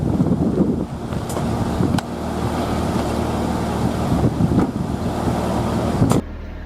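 Steady hot wind rushes past close by outside a 2024 Kawasaki Ridge XR utility vehicle, with a low, constant engine hum underneath and a few faint knocks.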